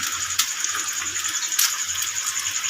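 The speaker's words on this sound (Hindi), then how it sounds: "हाँ, हमारा अंडा फ्राई हो रहा है" An egg frying in a pan, with a steady hissing sizzle of hot oil and a few sharper pops and crackles, close and continuous, with no talk over it.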